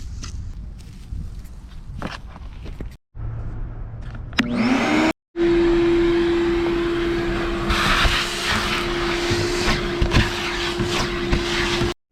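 A vacuum cleaner clearing dust from a Miata interior, starting with handling noises and short pauses, then a loud, steady whining drone with a fixed tone that runs to the end.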